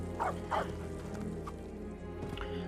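Dog barking and whimpering in the video game Lego Harry Potter, two short yips up front, then softer whines and a faint whimper over a steady game music bed.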